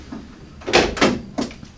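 A hardtop door for a Jeep Wrangler YJ is handled, giving a few close, sharp knocks and rattles in quick succession, then one more clunk, with no talking.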